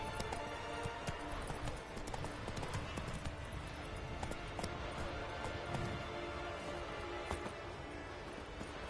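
A horse in The Witcher 3 video game gallops with rapid, continuous hoofbeats, moderately loud under game ambience.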